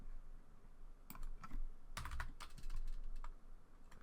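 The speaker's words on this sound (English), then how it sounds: "I'm just using the arrow keys basically to bring that around" Keys tapped on a computer keyboard, mostly the arrow keys, while nudging an animated mouth in Adobe Animate: irregular clusters of close, crisp clicks, sparse at first and denser toward the middle, with no talking.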